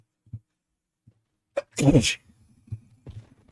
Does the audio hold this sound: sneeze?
yes